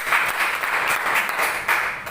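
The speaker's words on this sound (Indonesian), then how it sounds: "tepuk tangan dong" A classroom of students applauding together, a dense burst of clapping lasting about two seconds, close and loud, swelling slightly and then fading, with no speech over it.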